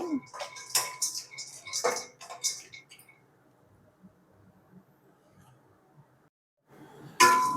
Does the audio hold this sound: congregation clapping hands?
no